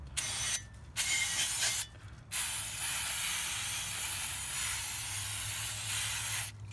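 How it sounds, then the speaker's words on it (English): Brake cleaner sprayed onto a Jeep rear differential: loud pressurized hissing bursts, two short sprays then one long continuous spray, close up with no talking. "All you're gonna do, just spray it down."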